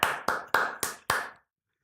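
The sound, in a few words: round of applause, clapping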